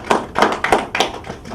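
A small group claps in a meeting of construction staff on a building site, with about five distinct rhythmic bursts of hand claps at close range and no talking over them.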